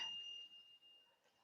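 A small secondhand bell gives a single faint, thin ring that sustains and slowly fades in a quiet room, with no speech.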